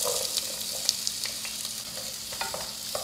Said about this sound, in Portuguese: Eu vou acrescentar aqui na panela aproximadamente uma colher de sopa de óleo. Vou ligar o fogo, acrescenta uma cebola grande picadinha.